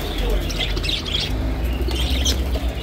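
Lovebirds and canaries at the old bridge bird market in Baghdad chirp and squawk in short overlapping bursts, close and lively, over a low crowd rumble.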